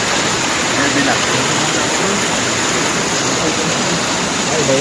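Tanawan Falls in Dingalan, a waterfall pouring onto rocks, heard as a loud, unbroken roar of rushing water close by, steady throughout without clear speech.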